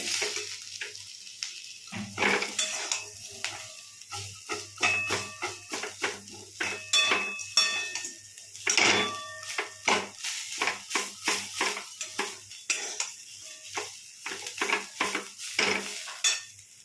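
Maggi noodles are stirred in a pan with masala powder, a utensil scraping and clinking against the metal in quick, uneven strokes, close and fairly loud, with a soft sizzle beneath.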